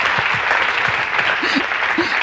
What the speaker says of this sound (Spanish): vamos a dar un aplauso enorme